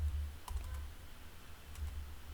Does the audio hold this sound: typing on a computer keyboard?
yes